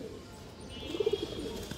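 A large female Army-breed pigeon gives a short series of soft, low coos, about four quick pulses, close by against quiet room noise.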